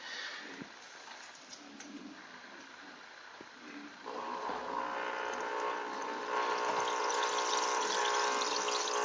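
Air pump pushing air through a homemade air-stone into water, a steady hum with busy fizzing and bubbling that grows denser and louder after a few seconds, running continuously without talk.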